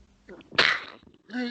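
A single sharp sneeze bursts out after a soft intake of breath, followed by a brief voice starting to speak.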